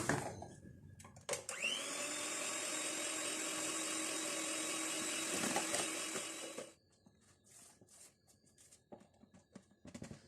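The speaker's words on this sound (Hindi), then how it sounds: "अब ये कैस्टर शुगर थोड़ी थोड़ी हम डालेंगे इसमें और इसको बीट कर लेते हैं।" Butter is beaten with caster sugar for a butter cake batter, an electric motor whirring steadily for about five seconds before cutting off, followed by faint clatters and handling noise.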